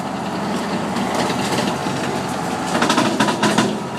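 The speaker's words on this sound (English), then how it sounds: "And that noise is the tractor that Ken is driving." A tractor runs continuously in a field while clearing debris, its engine rumble mixed with loud crunching, cracking and snapping of wood, growing busier toward the end.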